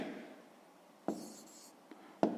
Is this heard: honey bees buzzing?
no